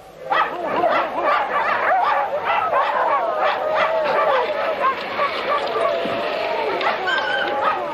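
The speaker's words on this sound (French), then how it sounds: "Les chiens de traîneau sont affectueux et bien dressés" Sled dogs on an Antarctic expedition bark, yip and whimper excitedly and continuously, several animals close by in a loud overlapping chorus.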